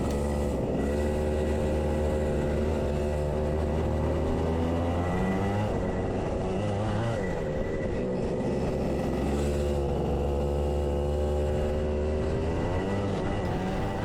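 Racing kart engines in a wet Daytona Milton Keynes DMAX race, loud close buzzing engine note rising and falling through gear changes and throttle lifts, continuous over the whole stretch, with no speech.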